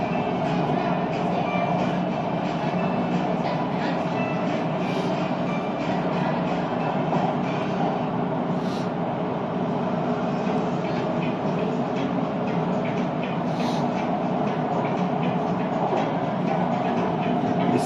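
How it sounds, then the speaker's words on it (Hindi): A Malaysian commuter train running from Kajang toward Kuala Lumpur, heard from on board as a steady close rumble with a low rolling drone and faint rail clatter that holds evenly throughout. "ये जो ट्रेन है ये कजंग से निकली है और कोलालमपुर की साइड पे जा रही है"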